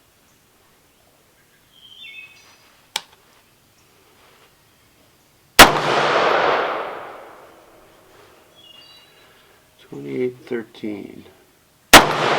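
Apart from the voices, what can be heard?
rifle gunshots firing new reloads at range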